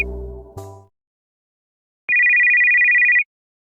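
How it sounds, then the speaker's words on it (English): A mobile phone's electronic ring sounds once in a steady, rapidly pulsing tone lasting about a second, loud and close, after a brief low rumble and a moment of silence. "His phone buzzes."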